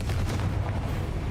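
A Confringo spell blast in the video game Hogwarts Legacy, a deep booming rumble that stays loud and close through the whole short moment, with no voices over it.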